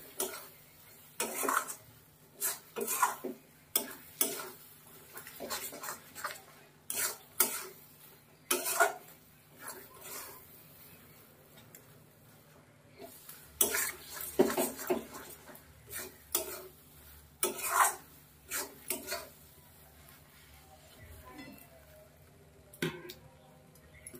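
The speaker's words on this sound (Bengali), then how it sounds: "দেখো কষাতে কষাতে কত সুন্দর একদম শুকনো শুকনো হয়ে গেল তৈরি লোটে মাছ ঝুড়ো" Bombay duck (lote fish) is stir-fried in a pan until dry. Quiet, intermittent scraping and clinking of a spatula come in short bursts, separated by near-silent pauses.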